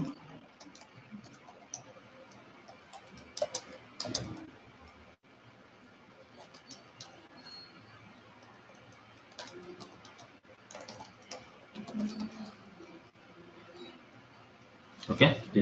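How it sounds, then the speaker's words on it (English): Quick clicking keystrokes come in scattered bursts, like typing on a computer keyboard, with a voice talking now and then over a quiet room. "just I'm typing the website name and then clicking on the publish"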